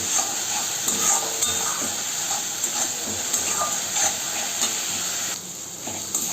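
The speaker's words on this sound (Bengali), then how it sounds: "দিয়ে আমি সুন্দর করে কষিয়ে নেব" Ginger garlic paste and onion sauté in a pan with a constant bright sizzle and hiss, broken by small stirring clicks and scrapes, close and steady before easing slightly near the end, with no speech.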